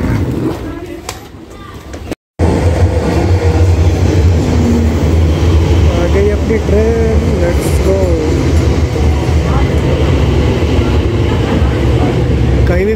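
A London metro train rumbles steadily through a busy, crowded station, its low drone and rising whine filling the space while people chatter nearby.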